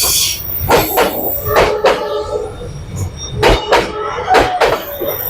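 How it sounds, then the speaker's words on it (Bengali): A train rolling along Hanoi's Train Street in the evening, a loud rumble with repeated sharp clanks and rail squeals rising and falling, and a voice talking faintly in the background. "ট্রেন আবার আসছে বোধহয়"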